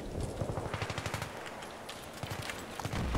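Rapid automatic gunfire from a Battlefield 3 multiplayer match rattles in quick, steady bursts, with a short lull and then more shooting, loud and close.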